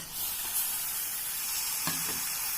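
Chicken pieces going into hot masala in a pan for pepper chicken curry, giving a steady broadband sizzle with a brief extra hiss as the meat hits, no talking.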